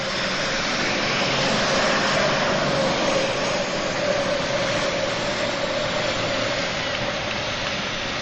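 A pulling tractor, an AC chasing a John Deere, at a 1988 indoor super pull in Indianapolis, roars at full power in one loud, steady, unbroken engine drone that never lets up.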